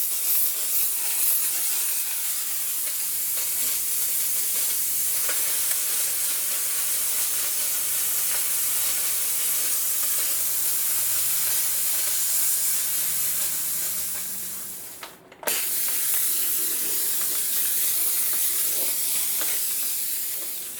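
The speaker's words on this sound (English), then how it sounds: "So we're going to push, press down, and start steaming." A Comforday electric steamer blows a steady, loud, continuous hiss of steam for about twenty seconds, briefly cutting out near the end before resuming, with no talk over it.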